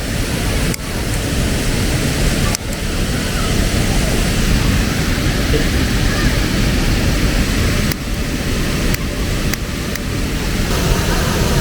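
Soormane Falls in monsoon season, a dense roaring waterfall rushing steadily and loudly close by, masking everything else for the whole stretch.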